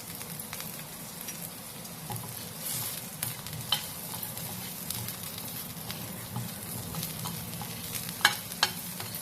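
Soaked cashews and cooked jackfruit seeds fry in a pan with red chilli powder and salt, giving a steady soft sizzle with occasional louder crackles and a few sharp pops toward the end, heard alone without talk.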